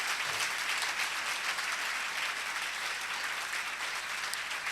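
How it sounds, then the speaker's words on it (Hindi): A church congregation applauds during a Palm Sunday sermon, giving a thick, continuous burst of clapping that sounds somewhat distant and stays steady throughout with no talk over it. "यीशु मसीह के लिए जितनी जोरदार ताली बजा सकते हैं।"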